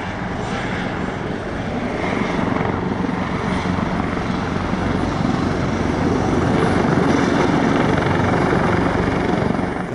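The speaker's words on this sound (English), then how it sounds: "a five-ship performance known as the Helicopter Tactical Display" Loud, steady rotor thump and engine roar of a five-helicopter military tactical display at the LIMA Langkawi 2023 airshow, flying close overhead, continuous throughout with no speech.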